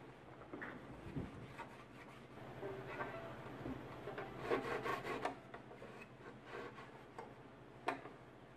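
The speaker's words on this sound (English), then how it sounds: "go and wipe the rag all throughout the violin" A rag wiping a violin being cleaned with varnish cleaner: soft, quiet rubbing and light scraping, with a few small ticks and taps of wood, close and without talk.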